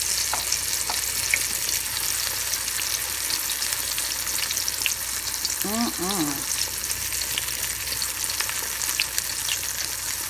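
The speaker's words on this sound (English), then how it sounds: "pop it in the hot oil. Ooh, yeah. You like that noise?" Steady, dense sizzling and crackling of wild rabbit pieces frying in hot oil, close and continuous, with a brief faint chirp midway.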